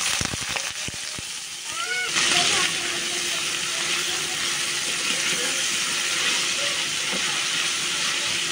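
Watermelon rinds go into hot oil already frying dried chilies, setting off a loud, steady sizzle with a brief surge as they hit the pan, continuing evenly close by.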